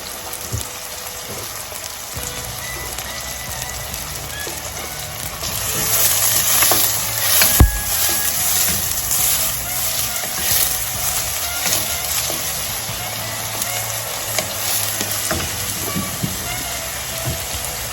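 Onions fry in a pan for methi mutton and chicken stir fry, giving a steady rain-like sizzle that swells when they hit the oil. Occasional knocks of a utensil sound through it.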